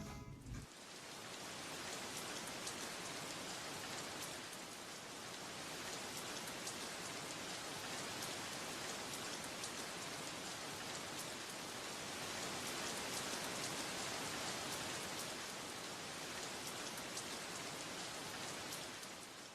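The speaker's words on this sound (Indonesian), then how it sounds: "Nah, sekarang sudah tahu kan bagaimana terbentuknya sebuah hujan?" Steady, dense rainfall pattering on a surface, a continuous even hiss of drops that holds close and loud for the whole stretch, with no voices.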